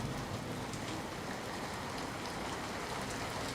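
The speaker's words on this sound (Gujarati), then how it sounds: "પંથકમાં મુશળધાર વરસાદ ખાબક્યો છે" Torrential monsoon downpour over Amreli, a dense, steady roar of heavy rain pounding surfaces, loud and unbroken throughout with no voices.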